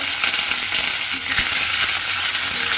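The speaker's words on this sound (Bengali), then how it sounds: "তেলের মধ্যে আমি আলুটা দিয়ে দিয়েছি দেখুন, আর আলুগুলো কিন্তু একদম সরু সরু করে কেটে নিয়েছি, সেই আলুটা তেলের মধ্যে দিয়ে দিলাম।" Thin-cut potato strips fry in hot oil with nigella seeds, giving a loud, continuous sizzling hiss with faint crackles throughout.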